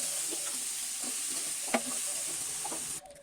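Vegetables drop into a pan of hot oil with green chillies and bay leaf, making a steady close sizzle with light stirring taps and one sharper knock, and the sizzle cuts out at the end.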